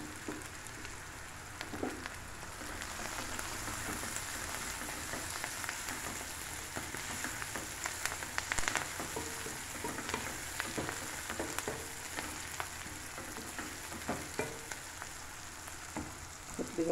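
Garlic frying in a pan for a tomato, drumstick and cashew curry, a steady close sizzle with faint crackles and a few soft spatula scrapes running throughout.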